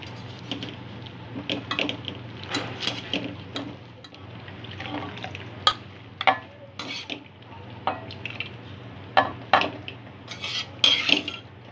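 Boiled noodles being lifted from a pot, with metal utensils clinking against the cookware and water sloshing and dripping in short scattered bursts.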